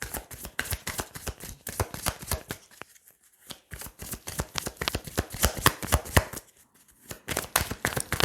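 A deck of tarot cards being shuffled by hand in repeated quick riffles and flicks, close and crisp, with two short pauses, and no talking.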